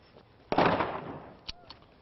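A .380 hollow point bullet fired into a milk jug, a single sharp outdoor shot followed by a longer noisy burst and then two faint short thuds.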